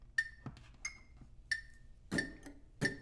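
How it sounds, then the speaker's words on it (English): A metronome set to 90 bpm in 4/4 gives sharp, bright clicks at an even pulse, close and fairly quiet, with faint handling noises between the beats. "Got the metronome set at 90."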